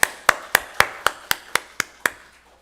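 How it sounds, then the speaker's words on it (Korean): Nine sharp, evenly spaced claps ring out in a church, a slow unison rhythm from the congregation, each clap crisp and close with a short decay, and no voices over them. "박수로 하나님께 영광 돌립시다"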